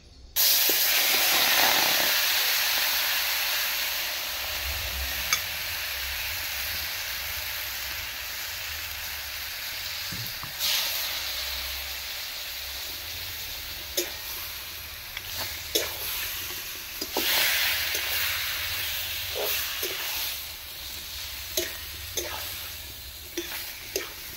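Meat rubbed with salt and turmeric sizzles loudly in a hot wok, a constant steamy hiss broken by occasional scrapes and stirring clicks.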